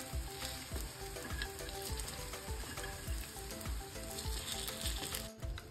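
A dal baati round cooks on its second side on a hot pan with little oil, giving a soft, steady sizzle with faint, regular ticking pops and no voices.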